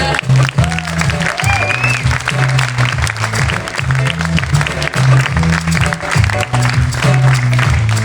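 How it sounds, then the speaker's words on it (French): Theatre audience at the Gaîté Montparnasse in Paris applauding warmly, continuous close clapping with a voice and music-like tones sounding underneath. "je vous demande de les applaudir aussi parce qu'ils en ont vu en 3 jours avec nous"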